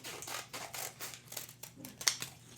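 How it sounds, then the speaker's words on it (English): Close, repeated snips and crinkly rustling of scissors cutting open a packet of coffee alternative, with a sharp click near the end. "I got some scissors so that I can cut this off neatly"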